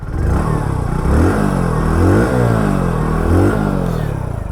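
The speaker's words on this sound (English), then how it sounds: "We can completely know this is the completely reliable engine from the exhaust note itself." A Hero HF Deluxe Pro motorcycle's engine runs close by with a loud, rumbling exhaust note, rising and falling in several light revs.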